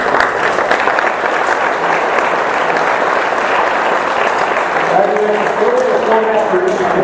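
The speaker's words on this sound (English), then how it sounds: "Big round of applause for them for putting this on." A large audience at a New Hampshire congressional primary debate breaks into sustained applause, dense steady clapping filling the room, with faint voices and a few tonal sounds surfacing near the end.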